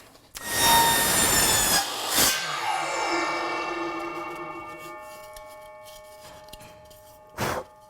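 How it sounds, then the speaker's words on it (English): A few quick strokes of a hand saw rasp through wood while making a Super Mario warp pipe, followed by ringing metallic resonance and a couple of sharp knocks. "So just use a hand saw."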